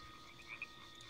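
A frog creature with antlers in the video game Spore gives a faint, brief croak, with two soft chirping blips against a quiet hiss.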